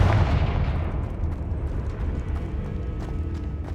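Blasting-spell explosion from the Confringo curse in the game Hogwarts Legacy, a loud booming burst at the start that rumbles on with crackling low-end debris and decays slowly over several seconds.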